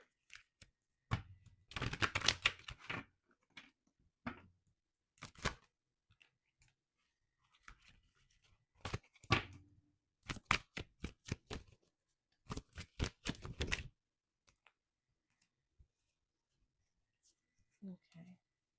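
Tarot cards shuffled and drawn close up, crisp bursts of riffling and flicking with short gaps of near silence between them, and a voice speaking quietly now and then.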